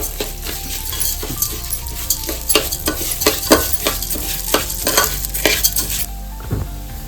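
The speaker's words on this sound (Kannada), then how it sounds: "ನಾವು ಒಂದು 2 ಕಪ್ ಹೆಸರು ಬೇಳೆನ ಕ್ಲೀನಾಗಿ ತುಪ್ಪದ ಹುರ್ಕೋಬೇಕಂತೆ" Moong dal roasting in ghee in a pan for Pongal, stirred with a spoon: a steady soft sizzle broken by repeated scraping strokes against the pan, close and clear, with no talking.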